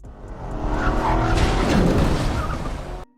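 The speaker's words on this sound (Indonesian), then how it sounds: "Beberapa saat kemudian dimulailah balapan antara Jae-chul melawan Jaksa Kim" Cars race and skid in a film scene, a loud sustained roar of engines with squealing tires that swells through the middle and then cuts off abruptly.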